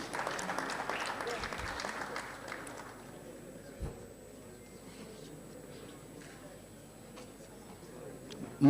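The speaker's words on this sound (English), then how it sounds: "A round of applause, ladies and gentlemen." Audience applause at a Ghana Navy Memorial Day ceremony, a few seconds of moderate clapping that dies away into low background murmur with occasional knocks and distant voices.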